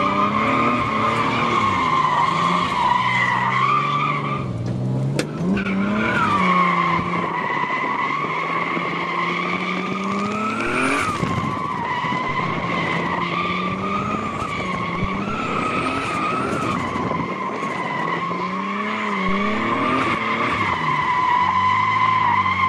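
Cars drifting send out a loud, continuous tire squeal that wavers in pitch over a steady engine roar, close and sustained throughout.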